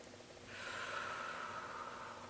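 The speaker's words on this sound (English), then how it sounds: "One more deep breath." A slow, deep breath is drawn in quietly during a guided healing meditation, a soft airy rush lasting a couple of seconds.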